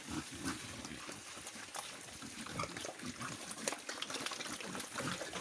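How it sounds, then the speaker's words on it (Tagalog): Pigs on a small pig farm grunt and squeal in short irregular bursts, mixed with running or splashing water, a busy close pen sound with no talk. "Tignan nyo yung aking mga lagang baboy."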